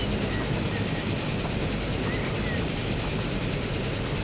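A train in Transport Fever 2 rushes through at steady volume, a continuous broadband rail rumble with faint rhythmic track noise and no gaps across the few seconds.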